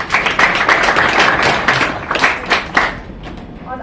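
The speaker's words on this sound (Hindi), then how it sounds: "तालियां बजाइए इनके लिए।" Students in a classroom clap together in a brief, dense round of applause, with a few louder individual claps standing out before it thins toward the end.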